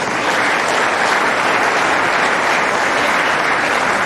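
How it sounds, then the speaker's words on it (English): Loud, sustained applause from an audience at a memorial lecture fills the whole clip, a dense even wash of clapping with no pauses. "I think you deserve another round of applause."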